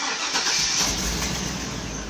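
A 2002 Chevy Avalanche 2500 pickup with a fuel problem starts up, its engine catching and settling into a loud, steady, close running roar for a couple of seconds.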